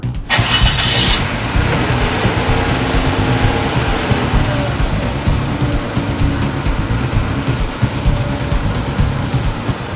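A car engine cranks and catches at the start, then settles into a steady, loud, close idle that hums on without change before a drive.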